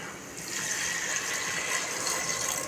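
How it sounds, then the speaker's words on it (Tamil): About a quarter litre of water pours steadily into a pan of sautéed country chicken for gravy, a continuous bright splashing rush that starts after a brief moment and holds at an even level. "இப்போ நான் இதுக்கு வேகிறதுக்கு தண்ணி சேர்த்துக்கலாம்"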